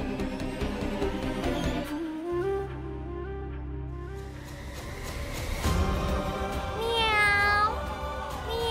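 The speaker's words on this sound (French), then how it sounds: "On dirait bien que les filles ont trouvé un chaton dehors." A kitten outdoors gives several plaintive meows over a backdrop of dramatic music, faint and partly buried, with clearer rising cries near the end.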